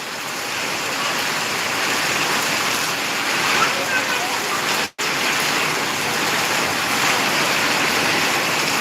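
Rain falling steadily in a dense, loud, even hiss, with a momentary dropout midway, no one speaking.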